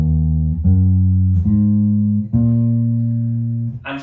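Four sustained, steady tones, the first notes of a minor pentatonic scale, step upward one after another, each held about a second, clean and alone with no talking.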